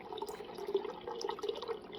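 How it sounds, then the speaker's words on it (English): Water running through a Whirlpool refrigerator's water lines after a water valve swap, a faint, close, steady trickle and splash with small fluctuations throughout. "Ran some water through the lines"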